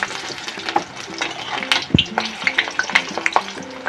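Eggplant fries in a pan while being stirred, giving a close, busy sizzle with repeated scraping and clinking of the utensil against the pan throughout.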